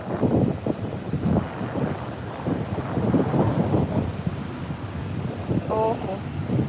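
Wind gusts steadily outside a slaughterhouse holding Holstein dairy cows, a constant rough roar of buffeting against the microphone that runs the whole time, with a person talking faintly underneath.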